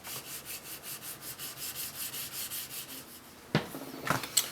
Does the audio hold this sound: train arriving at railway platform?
no